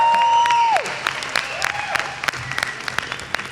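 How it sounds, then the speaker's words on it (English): A crowd at a NASA Space Apps Challenge awards finale claps and cheers as a whistle-like tone fades, the applause scattered and thinning into separate claps over a few seconds. "I want to hear more applause for the awards."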